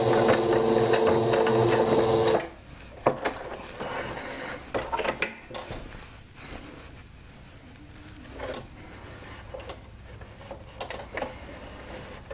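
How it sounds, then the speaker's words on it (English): A sewing machine stitching pom-pom trim onto a curtain runs in a loud steady whir for about two seconds, then stops, followed by quieter fabric handling, clicks and rustling close by. "now I'm going to sew this trim straight down"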